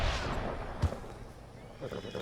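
Horse in the video game Red Dead Redemption 2 gives one short, loud neigh over a rumbling, noisy game backdrop.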